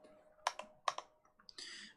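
Computer keyboard keys click in a few quick irregular bursts, close and fairly quiet, with short pauses between keystrokes.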